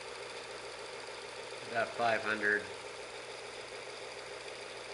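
A Visible V8 model engine runs with its crankshaft turning at about 827 RPM under a stroboscope, giving a steady, faint mechanical whir throughout while a voice briefly speaks near the middle.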